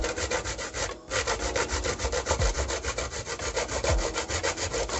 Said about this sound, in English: Sometimes you're grating the coconut and your hands may slip